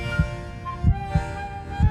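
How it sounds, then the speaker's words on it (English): A human heartbeat thumps in low, muffled lub-dub pairs at a slow, even pace over a soft steady hum, with no talking. "The sound of a heartbeat is an affirmation of life."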